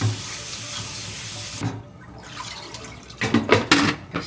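Tap water runs steadily into a sink as salad vegetables are rinsed, a continuous rushing stream that drops off briefly, then returns with splashier, uneven bursts as the greens are handled.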